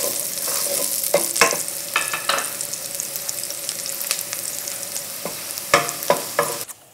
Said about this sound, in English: And let's add garlic. Stir this garlic.